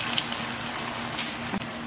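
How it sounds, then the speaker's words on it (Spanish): Sardine croquettes frying in very hot oil, a dense continuous sizzle and crackle held at close range for the whole span, with no voices over it. "Ya el aceite está bien caliente. Vamos a ir agregando las croquetas de sardina."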